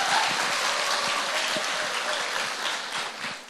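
A church congregation applauding to welcome the pastor, a dense, even roar of many hands clapping at steady loudness throughout with no talk.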